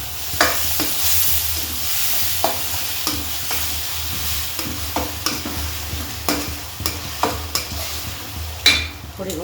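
Pounded roasted tomato, green chili and garlic for Kathiyawadi brinjal olo are stirred in a hot frying pan: a steady close sizzle broken by a regular series of sharp spatula scrapes and taps against the pan.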